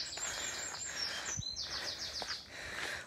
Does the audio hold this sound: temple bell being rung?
no